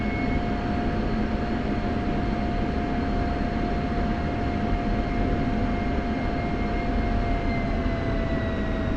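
A simulated F-16 jet taxiing in a flight simulator game, its engine a steady broadband roar with a faint high whine held at an even level throughout, no voices.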